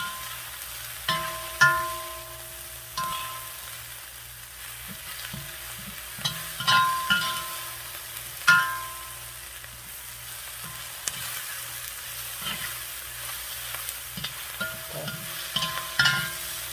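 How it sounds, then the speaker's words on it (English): Garlic, onions and peppers sauté in a hot pan with a steady sizzle, punctuated by intermittent clinks and scrapes of stirring. "So you want to saute them a little bit so that I don't burn it."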